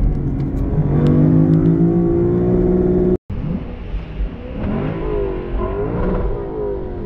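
A 2023 Lexus LC 500 Convertible engine revs hard, pitch climbing in smooth harmonic sweeps, cuts out briefly for a gear change, then pulls again with a rich, rasping note.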